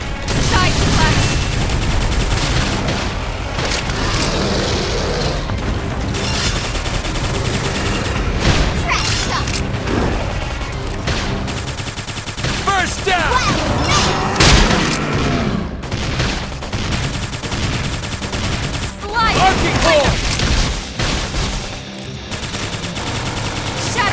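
Gunfire in a battle in the video game Xenoblade Chronicles X: Definitive Edition: rapid, sustained bursts of automatic fire with heavy booming impacts throughout, layered with game music and battle effects, with no talk.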